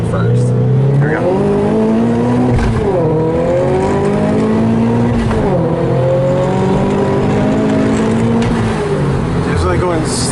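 Supercharged Toyota FRS accelerating hard from first gear, engine note climbing steadily with brief dips at shifts, loud inside the cabin with people talking over it.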